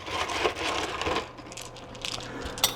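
Natural aquarium gravel pours into a glass hurricane vase for growing vandaceous orchids, a continuous dense gritty rattle and clatter of small stones, close and fairly loud, thinning out over a few seconds with a final sharp click.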